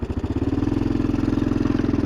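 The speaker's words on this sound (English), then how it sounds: "it's a Fendt tractor too from Germany." Fendt tractor engine from Germany, running steadily in a field with a rhythmic low chugging pulse, close and fairly loud, no talking.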